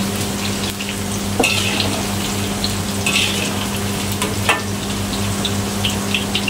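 Tofu sizzles steadily as it fries in a pan of oil, a close, continuous crackle with a low hum running beneath it and a few brief scrapes.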